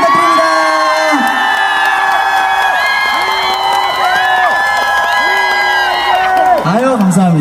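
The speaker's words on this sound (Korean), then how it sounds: "박수 한번 부탁드립니다." A festival crowd at the Cheongsong Baekja Festival cheers and whoops loudly and steadily for a singer's fan club, over tonal music, with voices shouting throughout.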